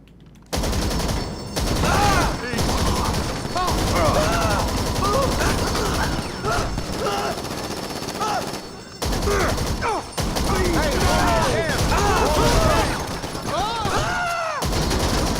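Gunfire in GTA 5 Online as a magazine is emptied: dense, loud bursts of automatic shots rattle almost without pause, broken by a couple of short gaps, with chaotic game noise layered underneath.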